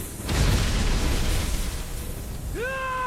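A cartoon magic spell brings down a fiery rain: a loud, sustained rushing roar of blasts and crackling fills most of the moment, then a bright rising magical tone sweeps in near the end.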